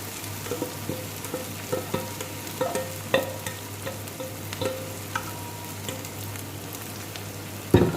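Fish, egg and garlic fry in a pan with a steady, moderate sizzle and a scatter of clicks and light utensil taps, ending on a sharper clack.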